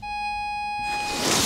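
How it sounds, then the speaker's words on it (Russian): Steady electronic beeping of a metal detector sweeping over ice, a sustained tone that shifts into brighter noisy crackle toward the end. "У нас начинает шалить металлоискатель"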